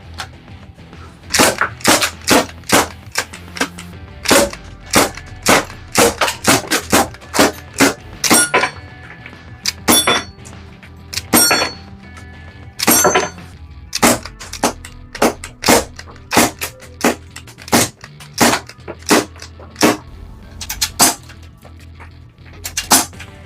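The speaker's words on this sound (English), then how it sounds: "Let's whack the stock out and just have a little bit of fun plinking them targets." A Well G249 Scorpion CO2 airsoft SMG fires at targets in a garden, with sharp cracking shots in single pops and quick bursts and metallic clinks of BBs striking the targets, repeating irregularly with short pauses between strings.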